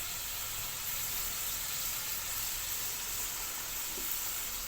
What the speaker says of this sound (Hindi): सिर्फ 4 से 5 मिनट जो है वो इसको फ्राई करेंगे इसके अंदर